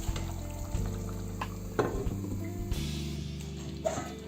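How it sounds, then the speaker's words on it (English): Pork belly simmering in a covered pan for a stir fry, stirred briefly: steady frying sizzle with scraping and clinking of a utensil against the pan, fairly close and without talking. "So I'm giving it a quick stir."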